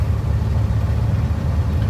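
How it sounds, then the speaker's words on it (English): A truck engine idling nearby with a steady, loud low rumble that holds even throughout. "let me bump up the idle here."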